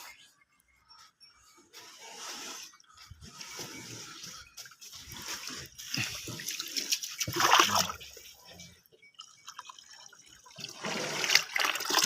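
Fresh water sprays over buffaloes during an outdoor bath, a continuous hissing, splashing rush that surges and fades in waves, with faint voices now and then.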